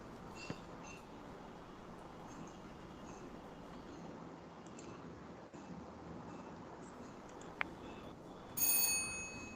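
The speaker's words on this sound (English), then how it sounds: "Please start after the bell." An electric bell at a school presentation event rings briefly near the end, bright and sharp against a steady background hiss.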